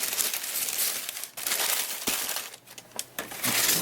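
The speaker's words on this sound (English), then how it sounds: "do some annoying noises with the paper here." Close, loud crinkling of paper in irregular bursts, crisp rustles and crumples with brief pauses between handlings.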